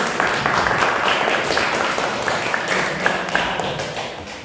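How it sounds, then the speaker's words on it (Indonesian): Applause from a classroom of students for a group that has just finished its presentation, a steady, dense clapping sustained for several seconds at fairly close range. "beri aplaus untuk kelompok 1"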